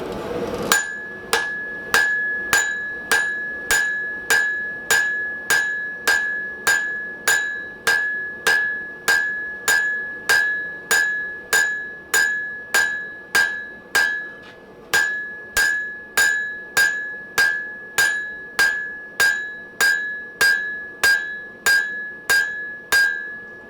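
Hammer blows ring out on hot steel while the scarf of a froe is forged, a long even series of sharp metallic clanks with a bright ringing tone, close and loud, with only brief pauses.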